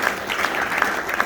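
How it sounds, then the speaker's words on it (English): A short burst of audience applause honors an Air Force veteran at a library tea party tribute, a steady crowd clapping that fills the room. "Let's give Donald a round of applause."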